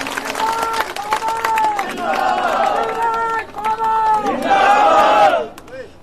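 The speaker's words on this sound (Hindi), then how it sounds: "जोरदार तालियों की गड़गड़ाहट।" Crowd at a BJP political rally in Sehore, a loud mass of cheers and shouting voices with scattered clapping, sustained for several seconds before dropping away.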